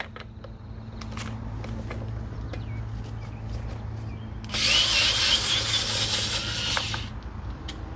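A hand or power tool works a bolt loose from a motorcycle body panel, giving a steady mechanical whir and then a louder, brighter burst of spinning noise lasting a couple of seconds, close up.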